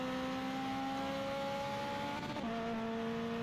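Car engine racing in the Forza Horizon video game, a loud sustained whine holding a steady pitch, then dipping briefly as a gear shifts before settling again, alone with no talking.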